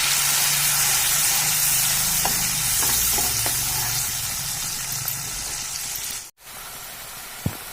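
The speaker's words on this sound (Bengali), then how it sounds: "তৈরি করা পেস্টটা এখন তেলের মধ্যে দিয়ে ভালো করে কষিয়ে নেব।" Ginger paste fries in hot oil for masala prawns with a bright, continuous sizzling hiss, a few soft stirring clicks, then a sudden cut and a quieter sizzle with one sharp knock.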